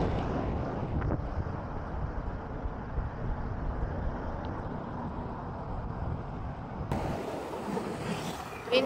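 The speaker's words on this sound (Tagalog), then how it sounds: "Hangin na, lamig ng hangin." A cold wind buffets the microphone on a ride around Tagaytay, a steady low, rushing roar that continues throughout and shifts in tone near the end.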